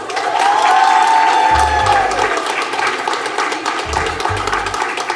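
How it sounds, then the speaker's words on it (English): School students applaud and cheer for a visiting guest chef, a broad crowd roar of clapping and shouts at full volume from the start that gradually eases off, with no speech on top. "Lions, round of applause for Chef Jet Tila."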